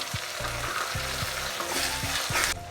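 Tomatoes fry in a pan with fried onions, mustard seeds and cumin, giving a steady close sizzle broken by several rhythmic stirring scrapes.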